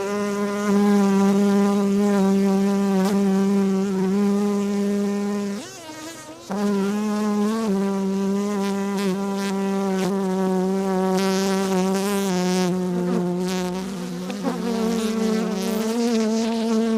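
Honey bees buzzing in a steady droning hum as beehive frames are handled and shaken during a UK beekeeping inspection, loud and close with brief dips and a few knocks.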